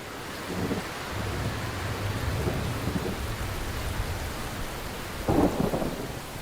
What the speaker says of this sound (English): Bandhavgarh gets its annual drenching. 2 months of high winds and rain.